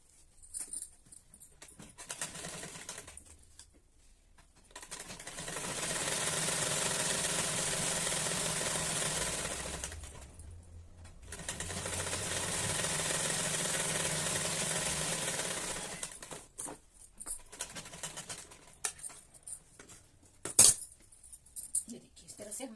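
Sewing machine stitching a kurti sleeve seam, two sustained runs of steady mechanical whirring several seconds each, separated by pauses with faint handling clicks, close and moderately quiet.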